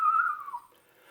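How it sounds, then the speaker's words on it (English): A single bird sings a short, clear whistled note that slides slightly downward, faint and alone in a quiet, still setting. "The bird returned to sing his eternal mass."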